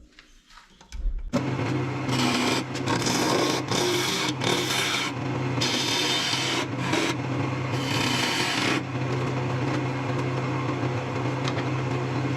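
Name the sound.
woodturning lathe cutting a tenon on resin box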